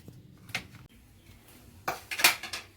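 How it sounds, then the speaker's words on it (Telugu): A metal kadai set down on a stove rings out with a couple of clanking, scraping knocks, the loudest clatter near the end, close by and without voices over it. "ఇదిగోండి, మనం ముందుగా కడాయి పెట్టుకున్నాం"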